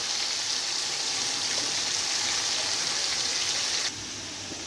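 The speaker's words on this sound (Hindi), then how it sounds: "अरबियों को हम लोग तेज़ आंच पे फ्राई करेंगे।" Taro root (arbi) fries in oil over high heat, giving a steady, dense, hissing sizzle that stays strong throughout and softens slightly near the end.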